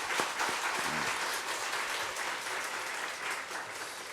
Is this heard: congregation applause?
yes